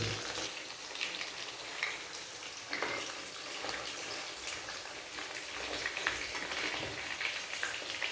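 Chicken drumsticks fry slowly in a pan, giving a quiet, even crackling hiss like light rain that goes on without a break, with faint scattered pops and no speech.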